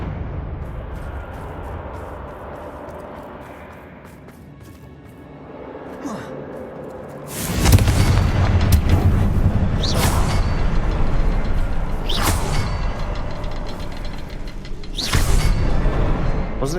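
A Confringo fire spell explodes in Hogwarts Legacy: a sudden loud broadband blast erupts midway over quieter game ambience, followed by sustained rumbling and a few more sharp bursts.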